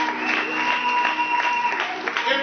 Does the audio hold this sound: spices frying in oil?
no